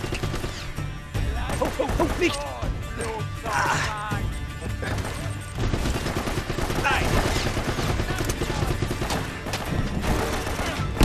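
Rapid bursts of gunfire and crashes from the video game Uncharted, loud and dense, mixed with game music and occasional voice sounds.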